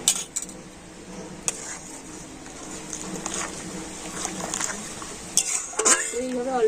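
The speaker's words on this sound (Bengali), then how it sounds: "এইভাবে অল্প অল্প দিতে হবে আর নাড়তে হবে" Semolina cooked with milk and custard powder stirred in a pot: close scraping and clinking of a spoon against the pot in irregular strokes over a low bubbling background, with a few louder knocks near the end.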